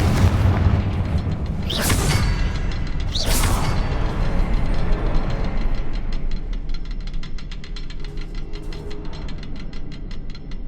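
Two loud, sharp blasts from the Confringo fire spell in Hogwarts Legacy land close together, followed by a dense mechanical rattling and clicking texture that keeps going beneath them, with no voices present.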